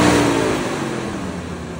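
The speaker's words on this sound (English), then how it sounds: "Started right up with a jump. Moving it forward. And backward." A car at a city auction idles and revs after being jump-started, the engine note loud and close with a steady whirring drone that eases slightly as it is moved.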